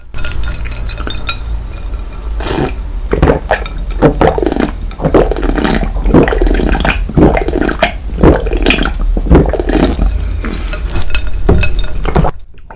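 Someone drinks an ice-cold soda such as Coca-Cola, Fanta or Mountain Dew Blue Hawaii over ice: close, loud clinking and sloshing of ice in a cup with repeated swirling and gulping, and no talking.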